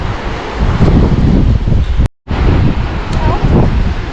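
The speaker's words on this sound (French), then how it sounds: "il y a un petit peu de vent, mais ça fait du bien" Steady, loud wind buffeting the microphone on the Great Ocean Road coast in Australia, a broad roaring rush with a brief dropout midway before it returns.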